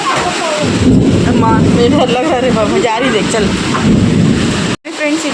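Heavy rain pours down during a thunderstorm as thunder rumbles loudly and close, steady hiss of rain throughout with people talking over it and a brief cutout near the end.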